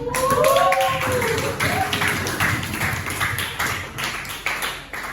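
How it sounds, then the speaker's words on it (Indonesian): A class of students claps their hands together in a classroom, brisk uneven clapping close by that tapers off toward the end, with a few voices over the start. "Oke, boleh tepuk tangan."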